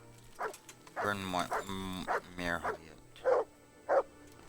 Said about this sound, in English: My dog! Yay! Mutt! There's the good doggy. That's my boy.